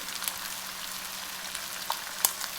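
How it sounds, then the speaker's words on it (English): Mutton with slit red chilies, celery and sliced onions frying and being stirred in a pan makes a quiet, steady sizzle broken by a few sharp clicks from the spoon. "just allow this to cook for another 4 to 5 minutes, mixing it continuously"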